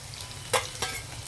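Curry leaves fry in hot oil in a pan while sesame chutney is being prepared, a soft continuous sizzle broken by two brief, sharper crackling bursts close by.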